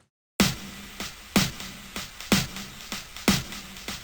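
Snare hits from a lo-fi beat programmed in FL Studio, four bright, noisy cracks spaced about a second apart with short ringing tails, alone and fairly loud after a brief silence.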